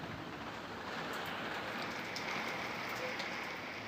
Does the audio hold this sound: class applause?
no